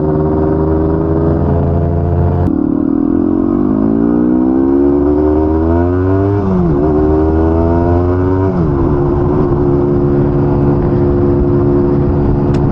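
An unrestored vintage Yamaha DT250 enduro motorcycle engine, loud and close, idling then revving up and down in smooth sweeping rises and falls before settling back to a steady idle.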